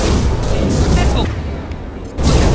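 A missile explosion during a firefight in the Mass Effect 2 video game, loud close booming blasts with a roaring, noisy tail, a brief lull and another burst, with a voice talking under it.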